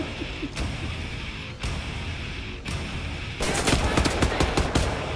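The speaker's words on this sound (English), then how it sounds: "Whoops, I shot the wall. You know, I love this gun." Rapid assault rifle fire in the shooter Wolfenstein: The New Order, with short bursts separated by brief pauses, then a sustained dense volley near the end, loud and close with no voices.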